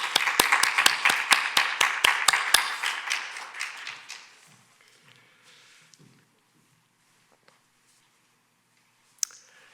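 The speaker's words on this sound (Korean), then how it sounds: "여러분 댁에서 어디서든 박수로 힘차게 격려해 주시기 바랍니다" Brief burst of clapping from a church congregation during a year-end Sunday worship service, about a dozen sharp claps fading out over four seconds, then near silence with a single faint tap near the end.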